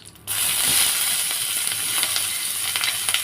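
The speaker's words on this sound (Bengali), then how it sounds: "এরপর দিয়ে দেবো পেঁয়াজ কুচি" Chopped onion dropped into hot oil already spiced with cumin, bay leaf and dried red chilli for a chicken curry, bursting into a loud, steady sizzle that holds close and continuous with faint crackles throughout.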